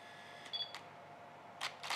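Camera shutter firing test shots with a Cactus RF60X flash and wireless trigger at 1/1250 high-speed sync, several quiet, crisp clicks, two near the start and a louder pair near the end, against a faint hum.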